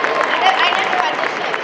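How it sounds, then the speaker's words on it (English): Convention audience at a Nostalgia Con 2025 Dexter's Laboratory panel applauding, a dense, steady wash of many hands clapping that stays loud and even throughout, with crowd voices mingled in. "So seriously, round of applause one more time."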